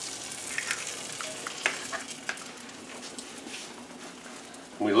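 An egg cracked into a hole in a slice of bread frying in a pan for a one-eyed jack: a faint, steady sizzle with a few soft ticks and pops, close but quiet, ending in a brief clatter.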